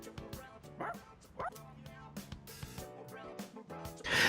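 Koromaru, the dog in the video game Persona 3 Reload, yips and barks in short bursts with whimpering between, mixed with game music and sound effects.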